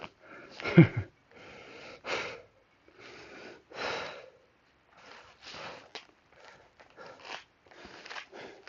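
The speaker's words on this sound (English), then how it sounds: "You can hear me breathing harder." Heavy, labored breathing during a home bodyweight workout, a series of loud, close huffing breaths and exhales in an uneven rhythm with short pauses, with no talking.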